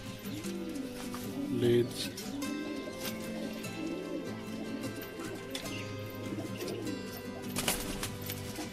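Kaldum pigeons coo repeatedly in a loft, rolling throaty calls that rise and fall one after another, faint and close, while someone talks over them.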